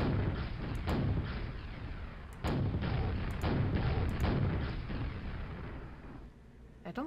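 Rocket launcher fire in the video game Quake: a rapid string of loud booming blasts and explosions, one after another with only brief gaps, dense game combat noise throughout.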